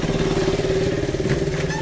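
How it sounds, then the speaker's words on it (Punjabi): An old 1993-model Bullet motorcycle engine runs close by with a steady, throbbing low rumble that keeps an even beat throughout. "ਇਹ ਆਪਣਾ 93 ਮਾਡਲ ਮੋਟਰਸਾਈਕਲ ਆ"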